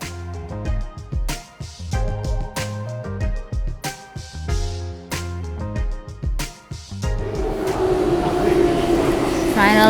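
A train pulls into a station platform with a broad rumble building over the last few seconds, following a stretch of station ambience with music and passing sounds.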